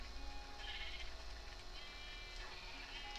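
Sheep bleating in the Minecraft video game, short repeated game-sound bleats over a steady background hum, fairly quiet and with no talk.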